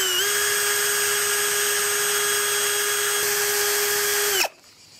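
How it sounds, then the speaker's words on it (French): Power drill with a mixing paddle stirs epoxy resin and hardener for pool waterproofing, a loud steady high-pitched whine held for about four seconds before it cuts off abruptly, leaving quiet room tone. "Et on va mélanger mécaniquement pendant quelques secondes."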